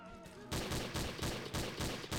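Automatic gunfire in the game Garry's Mod: loud, rapid repeated bursts of shots in a steady rattling rhythm, close and dominant after a brief lead-in.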